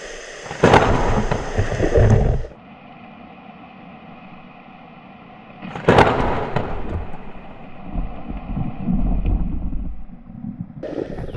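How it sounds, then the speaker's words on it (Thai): Loud bursts of thunder crack and rumble twice during a storm at sea on a spearfishing trip, with heavy rain and wind roaring steadily between the strikes. "เมื่อกี้ ลมแรงฟ้าผ่าด้วยครับ"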